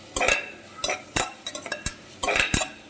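Onions and green chillies being sautéed in a pan, heard mostly as a few quick clanking scrapes and knocks of a metal spatula against the pan in short bursts, with only a faint sizzle underneath.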